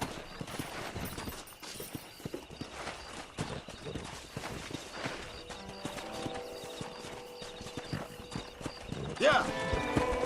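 Horses in the video game Red Dead Redemption, a wild herd clip-clopping along with hooves thudding and a whinny near the end, heard under spoken dialogue.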